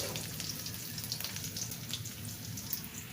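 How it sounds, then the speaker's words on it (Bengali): Chopped onion frying in oil in a wok, a steady close sizzle with crackling pops running continuously throughout. "কড়াইতে দিয়ে দিলাম তেল, দেখো দিয়ে দিচ্ছি পেঁয়াজ কুচিটা"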